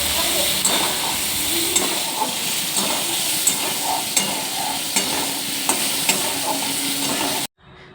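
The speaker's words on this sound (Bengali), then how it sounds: "তো আলুগুলো একটু ভালো করে তেলের মধ্যে নাড়াচাড়া করে নেওয়ার পর" Potatoes stirred and fried in hot oil: continuous loud sizzling hiss with regular scraping strokes of the spatula roughly every second, ending abruptly.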